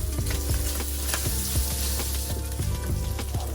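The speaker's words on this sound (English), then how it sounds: "let it sizzle, releasing its aromatic fragrance" Garlic and gochujang sauce sizzle and crackle in a hot pan, a steady close frying hiss with occasional scraping stirs and pops.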